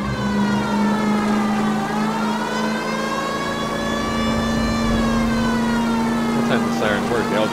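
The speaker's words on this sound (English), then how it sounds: "Sirens work, they all just stop." Video game emergency vehicle siren wailing in a long, smoothly rising and falling sweep over a steady engine hum, loud and continuous, with speech under it.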